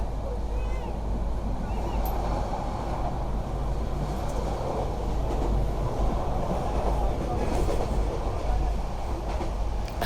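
A train runs on rails with a loud, steady rumble and rattle that continues throughout, while people talk over it.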